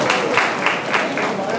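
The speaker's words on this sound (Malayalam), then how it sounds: "ഓക്കെ, കൈയടിച്ച് അംഗീകരിച്ചിരിക്കുന്നു." Wedding-engagement guests clap together in a steady wash of applause that holds at an even level for its whole length.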